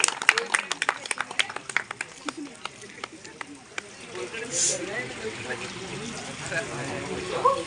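At an art exhibition event, an audience gives scattered claps that start close and distinct, then thin out into soft, sparse clapping beneath quiet murmuring and room noise.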